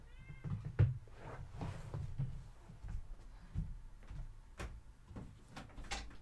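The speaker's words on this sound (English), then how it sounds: "Hold on, I gotta open the door for my cat." A domestic cat meows repeatedly at a door indoors, with several short, fairly close meows spread through the clip and faint knocks or door handling sounds between them.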